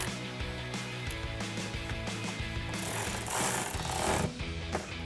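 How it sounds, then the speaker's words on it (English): A ratchet with a 10mm socket tightens a bolt while installing a K&N Series 63 AirCharger cold air intake on a 2014-2019 Corvette C7, giving a steady, close run of busy mechanical clicking and whirring with a brief louder burst near the end. "tighten this down with a 10mm socket"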